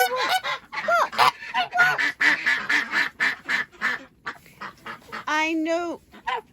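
Geese honking and ducks quacking in a small backyard flock kept in a tunnel enclosure in the UK, loud and close with repeated overlapping calls, a person's voice mixed in.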